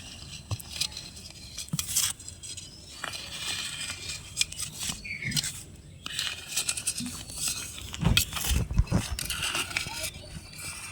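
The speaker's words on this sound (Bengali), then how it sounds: "একটা ছুরির সাহায্যে থালার চারিদিকে ধারগুলো আগে তুলে নেব" A knife scrapes around the edges of a cooled semolina breakfast snack on a plate, lifting it loose with repeated scratchy strokes and clinks against the plate, close up.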